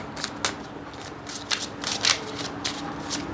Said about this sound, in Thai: หมอขออนุญาตเก็บไพ่นะคะ